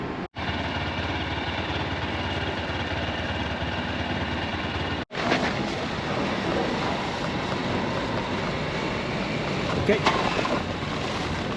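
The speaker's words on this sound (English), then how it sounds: "The overnight ferry to Shikoku." An overnight ferry from Kitakyushu bound for Shikoku gives off a steady, loud engine drone with constant onboard rumble and wind, broken by two short gaps, while a voice speaks briefly.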